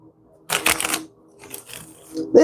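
Tarot cards being shuffled by hand, a burst of crisp riffling and slapping followed by softer shuffles and a final thump, close and alone with no talking.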